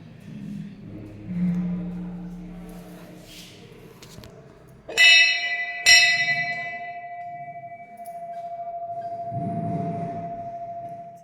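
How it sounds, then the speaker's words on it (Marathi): A small temple bell at a Shiva Mahadev shrine in a Konkan village rings twice in quick succession, bright and close, its clear tone lingering long after, with faint voices and background murmur around it. "ही जी छोटी घंटा आहे"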